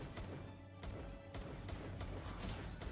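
A quick burst of pistol gunshots in Palworld, several rapid cracks packed close together, faint and low in level against game background noise, no talking.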